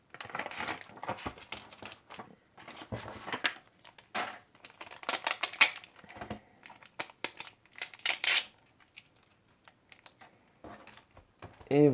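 Plastic blister packs of trading card boosters being opened, close crinkling, tearing and snapping plastic in irregular bursts with quiet pauses, and a few faint voice sounds.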